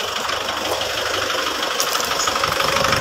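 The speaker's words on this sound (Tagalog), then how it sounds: "Masyadong mababa yung fuel delivery. Nagnanaking na yung makina." Isuzu Trooper 4JX1 diesel engine idling with a knock from low fuel delivery, a steady close-up mechanical clatter and hum holding even for three seconds with no one speaking.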